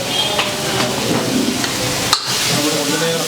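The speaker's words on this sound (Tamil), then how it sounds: "கொஞ்சம் அப்படியே ஃப்ரை ஆகணும்." Mutton fries in a pan with ginger-garlic paste and mutton masala, making a steady loud sizzle broken by a few scraping stirs of the spoon. Faint talk can be heard under the cooking noise.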